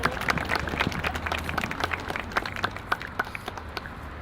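A round of applause from a small audience at a community gathering for a speaker stepping up, moderate and fairly close, with individual claps clearly distinct in an uneven rhythm.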